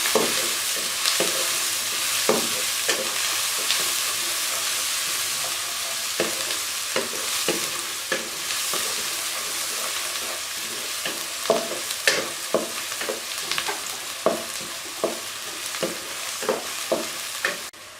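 Onions sizzle and fry steadily in a pan, with frequent stirring clatters and scrapes, close and continuous, with no voices.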